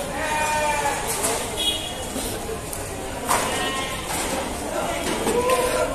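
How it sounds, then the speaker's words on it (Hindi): Goats bleat several times, near and far, in the crowded night-time Deonar goat market, their cries rising over a busy background of people talking. "तुम्हारी पसंद का बकरा है? बकरा है वो"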